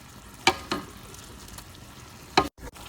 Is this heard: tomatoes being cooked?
yes